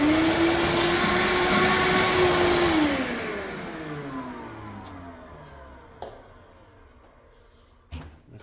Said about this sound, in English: Use the vacuum for a little suction.